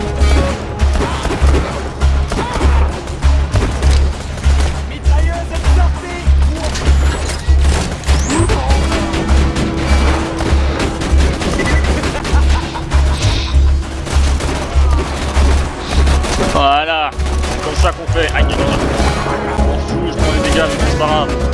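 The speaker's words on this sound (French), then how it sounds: "Mitrailleuse est sortie." Rapid machine gun fire and explosions in the video game Borderlands 2, loud and almost continuous bursts of shots and impacts throughout, with someone talking over the combat.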